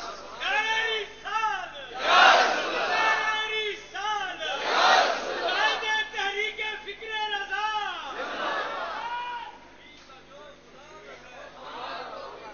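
Large religious gathering chanting slogans in unison, loud rhythmic shouted calls rising and falling in repeated waves, with crowd murmur between chants and fading toward the end.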